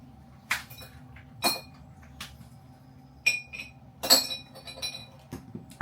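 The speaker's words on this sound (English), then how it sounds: "Anyway, small ice cubes." Small ice cubes clink into a glass jar in a few separate bright taps spread over several seconds, close and fairly clear against a low background hum.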